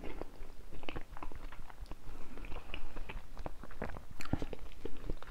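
Crackers are chewed close to the microphone, a run of irregular crunchy bites and moist mastication clicks carrying on for several seconds without talk.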